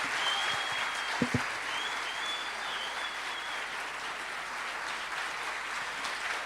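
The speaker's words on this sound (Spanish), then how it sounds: "Un fuerte aplauso." Steady applause from a seated audience closing a public talk on the state in Argentina, a broad even wash of clapping sustained throughout, with a couple of brief louder knocks early on.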